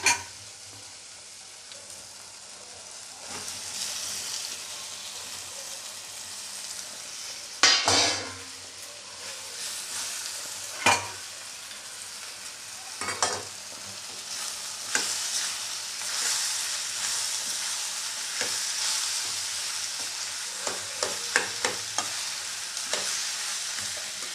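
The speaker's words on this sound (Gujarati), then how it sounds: "હવે જે બટેટા બાફ્યા હતા એ નાખી દેશું." Boiled potatoes go into a sizzling pan of red chili masala for masala dosa filling, with a steady fry hiss broken by repeated scraping and clanking of a spoon against the pan.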